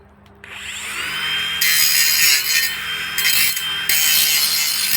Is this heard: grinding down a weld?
yes